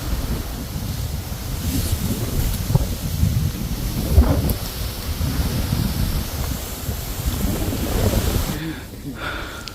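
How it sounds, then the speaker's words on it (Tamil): Strong wind blows steadily on a hill trekking path, buffeting the microphone with a low, rumbling roar throughout. "பார்த்தீங்களா எவ்வளோ காற்றடிக்குது"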